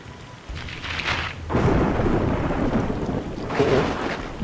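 Rolling thunder in a rainstorm in Splinter Cell: Pandora Tomorrow, a low broad rumble that swells sharply after a softer opening and keeps growing over a steady hiss of rain, with no voices.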